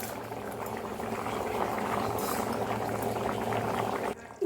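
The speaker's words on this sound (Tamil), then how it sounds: "இப்போ நல்லா கொதிக்குது." A pot of banana stem stew bubbles at a steady rolling boil, a constant dense burble that cuts off briefly near the end.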